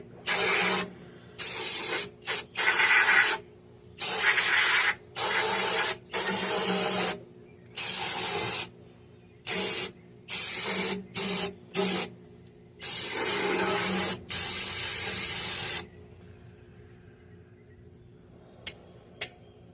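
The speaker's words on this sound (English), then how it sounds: "We'll just take a little bit of brake cleaner." Brake cleaner sprayed from an aerosol can while servicing a 2002 GMC Sierra differential, in about a dozen close, loud hissing bursts of varying length with brief gaps, then quiet handling sounds.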